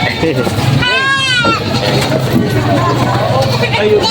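Goats being loaded into a van at a livestock gathering in Padre Garcia, Batangas; one loud, wavering bleat rises about a second in over steady nearby chatter and crowd noise.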